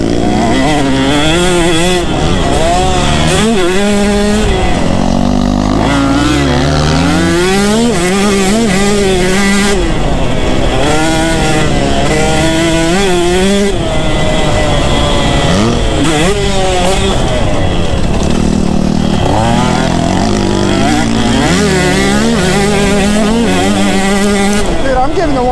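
125cc KTM and Husqvarna dirt bikes race one behind the other, engines shrieking and wavering as they rev up and down through corners, loud and close, with a rider's voice talking over the engine noise.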